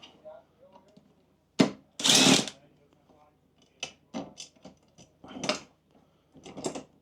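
Impact driver loosening the top box mount bolts on a Honda X-ADV 750, heard as several short bursts of rattling hammering close by, separated by pauses and light handling noises.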